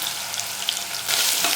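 Cashews, onions, curry leaves and ginger-garlic paste frying in a pan for moong dal khichdi, a steady close sizzle that grows louder near the end, with no talking.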